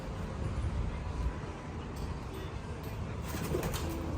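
Pigeons coo faintly and steadily above a Guru Ravidass temple on Nurmahal Road in Phillaur during a Gurpurab festival. The soft calls sit under a constant wash of outdoor background noise.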